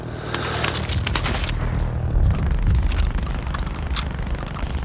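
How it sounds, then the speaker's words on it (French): Rapid bursts of automatic gunfire and heavy booms ring out in a Call of Duty Warzone match on the Caldera map, loud and dense, with sharp crackling shots clustered early and a rumbling blast in the middle. "Merde, on tire dessus."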